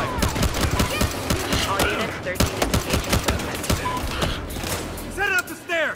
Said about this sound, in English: I'm here responding to pistol and shotgun fire!